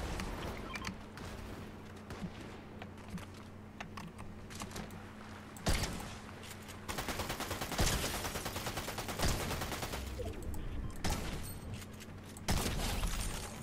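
Rapid bursts of gunfire from the video game Fortnite ring out repeatedly with sharp shotgun-like blasts, set against a steady hum and scattered keyboard clicks.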